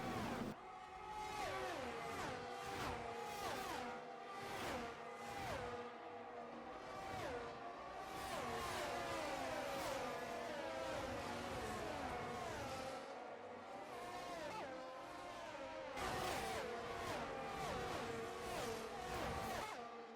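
A tight train of racing cars sweeps past on the Monza track in a sim racing game, with engine notes rising and falling in repeated loud passes, one car after another.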